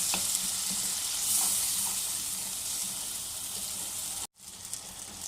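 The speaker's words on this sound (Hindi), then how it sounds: "इस तरह मसाले में इनको अच्छी तरह अब हमने ना 5 से 7 मिनट के लिए भूनना है" Brain (maghaz) masala fries in a pan with a constant close sizzle and hiss, broken only by a brief gap near the end.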